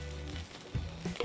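Eggs topped with melting cheese fry in a pan, giving a faint, soft sizzle with a few small stirring knocks near the end, close but quiet and without speech.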